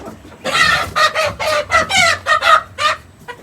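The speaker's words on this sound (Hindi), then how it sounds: "ये लो जी पकड़ लिया मुर्गी को" A hen clucking close and loud in a string of short, uneven calls, some drawn out into squawks, standing alone over a quiet background.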